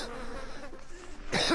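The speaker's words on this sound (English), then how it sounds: "There's so many mosquitoes." Swarms of mosquitoes at a remote wilderness cabin make a faint, thin whine near the microphone, with a louder rustling burst near the end.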